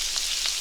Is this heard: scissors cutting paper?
no